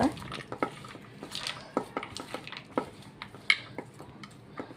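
Sabudana chaat is stirred with crunchy farsan in a bowl, a spoon tapping and scraping the bowl in quick, irregular clinks and soft crunchy rustles, close up.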